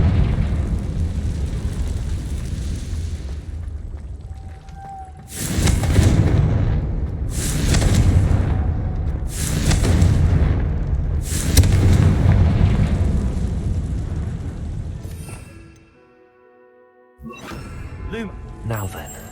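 Confringo fire-spell blasts in Hogwarts Legacy strike in a series of four loud, booming bursts about two seconds apart, set against a rumbling background that cuts out briefly before returning.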